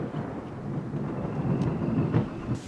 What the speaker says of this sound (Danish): fordi det lyner og tordner så meget herovre og regner